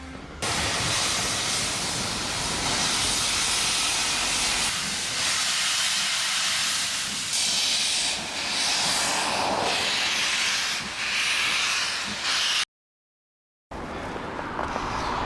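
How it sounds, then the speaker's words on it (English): A steam train in Scotland lets off a loud, continuous hiss of steam that swells and roars for over ten seconds, broken by a short silence near the end. "It's a fucking steam train."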